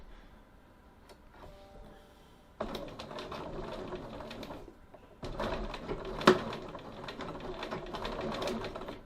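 Sewing machine stitching about 3 mm around a fabric pocket, two sustained runs of rapid mechanical whirring separated by a brief pause, with a few quiet clicks and handling noises before the first run, close and moderately loud.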